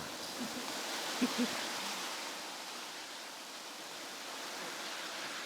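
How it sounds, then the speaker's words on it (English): Steady, soft broadband hiss of rain and running water used as sound effects in a music track, even and continuous, with a couple of faint low thumps near the start. "we also added rain and water sounds"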